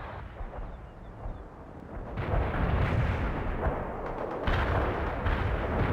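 An artillery barrage in the World in Conflict video game, with rumbling distant shell impacts building into a heavy, continuous roar of explosions and booms that swells louder midway, with no talking.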